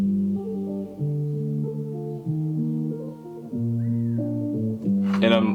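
A Splice guitar loop, pitched up and half-timed, plays sustained melodic notes that change every second or so, loud and close in a beat production, with a brief brighter burst at the end.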